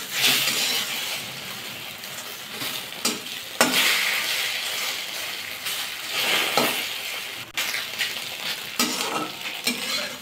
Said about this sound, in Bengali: তারপরে একটু নাড়াচাড়া করলাম